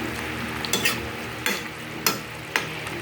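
Pinakbet with pork stirred in a pan over a steady sizzle, with a utensil scraping and clanking against the pan about four times at a loose, unhurried rhythm, close and moderately loud, no voices.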